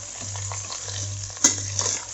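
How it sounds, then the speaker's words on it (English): Vegetables stirred in oil in a pan for Kerala aviyal, a soft continuous sizzle with gentle scraping and one sharper clink of the utensil partway through, quiet and close with no voices. "Mix it well so that the oil is coated properly with vegetables."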